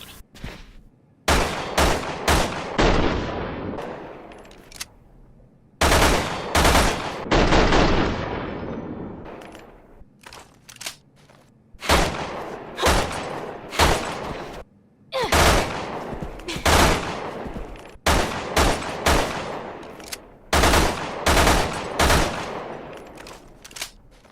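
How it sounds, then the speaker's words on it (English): Bursts from the Triple Shot handgun in Resident Evil 6 ring out as loud, sharp gunshot clusters, repeated in rapid groups with short pauses between them across the whole stretch. "This is basically the burst fire handgun of Resident Evil 6."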